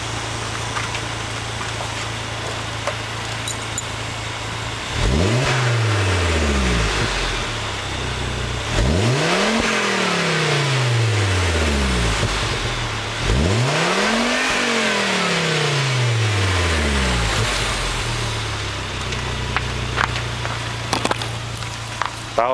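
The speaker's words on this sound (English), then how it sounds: "I'll give you a rev so you can hear the sound of it compared to my old exhaust" A 2005 Volvo 2.5T with a Heico Eurosport catback exhaust idles with a low rumble, then revs hard three times, each climb rising to about 5,500 RPM and falling back to idle, loud and close.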